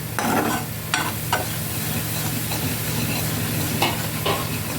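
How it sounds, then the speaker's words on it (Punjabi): Coarse gram flour and semolina roasting together in a pan for besan halwa, a dense steady sizzling hiss with a few scraping strokes of a spoon, close and loud. "ਹੁਣ ਇਹਨਾਂ ਦੋਨਾਂ ਨੂੰ ਚੰਗੀ ਤਰ੍ਹਾਂ ਭੁੰਨ ਲਾਂਗੇ"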